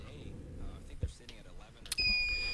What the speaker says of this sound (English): We got to check his buzzer here.